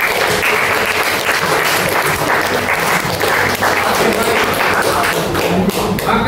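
Loud, close classroom applause from students fills the room in a dense, continuous burst of clapping, with some thumps and taps mixed in.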